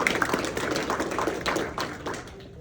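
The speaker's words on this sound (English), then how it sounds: "huge round of applause for him," Audience applause at ApiWorld 24, a tech conference, as a cloud solutions architect takes the stage: dense, steady clapping from a crowd that fades slightly toward the end.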